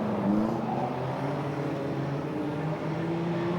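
Banger racing cars from 1978/79 at Ipswich sail past on the track, a steady loud engine roar with rising and falling pitch from several vehicles, continuous and without talk.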